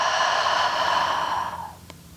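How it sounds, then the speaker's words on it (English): A deep, breathy exhale through an open mouth during a vinyasa yoga class, one long steady whoosh close to the listener that fades out after about a second and a half. "Open the mouth for the exhale."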